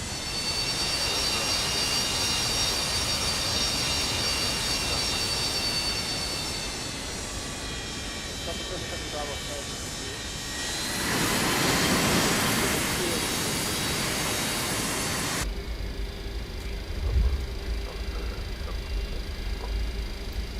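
Boeing 727 jet engines spooling up for taxi in a 1990s FedEx cargo flight simulation, a steady broadband roar with rising whine tones that swells around the middle, with a low rumble and brief thumps later.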